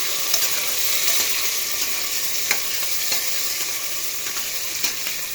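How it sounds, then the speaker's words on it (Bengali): Chopped onions fry in a pan for a spicy duck curry, cooking down toward reddish brown. A steady, close sizzle runs throughout, broken by occasional stirring scrapes and clicks, with no talking. "এখন পেঁয়াজটা লাল লাল করে ভেজে নেব"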